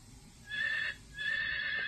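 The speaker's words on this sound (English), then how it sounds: "What's a horse say?" A recorded horse neigh plays from an assistive communication device, two drawn-out, quavering whinnies separated by a brief pause, clear and fairly close with no speech.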